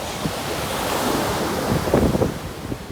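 Ocean waves washing onto a deserted beach among dunes, a continuous broad roar of surf with wind buffeting the microphone and a few louder surges near the end.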